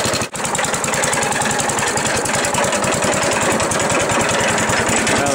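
A small engine idles steadily after a cold start before a snowstorm, its carburetor still needing adjustment, with a fast, even putter that stays loud and close throughout and briefly dips near the start.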